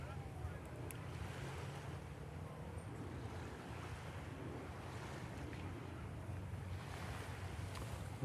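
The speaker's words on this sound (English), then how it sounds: "I'm really hearing the water down below." Continuous low roar of surf and water below the shore at Mukilteo, Washington, with wind buffeting the microphone, steady and moderately distant, no talking.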